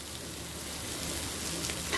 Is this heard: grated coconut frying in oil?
yes